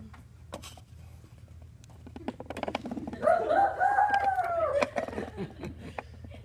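A voice imitates a rooster's cock-a-doodle-doo during an animal guessing game, with one rising and falling crow of about two seconds standing out over background room noise and scattered clatter.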